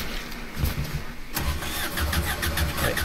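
In the video game Mafia 3, a car engine cranks and turns over with a rough, sputtering whir, struggling without catching, amid steady background rumble.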